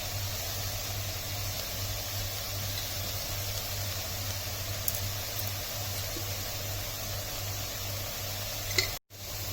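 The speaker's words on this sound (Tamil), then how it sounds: "போட்டு நல்லா மிக்ஸ் பண்ணிக்கோங்க." Banana flower stir-fry is mixed in a pan, a quiet steady sizzle with faint scraping under a constant low hum, broken by a brief dropout near the end.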